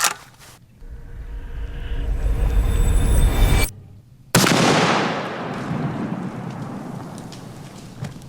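A single loud, close rifle shot from a 30-06 firing 150 grain Hornady ammunition cracks out after a rumbling lead-in, followed by a broad booming echo that slowly decays, with no talking.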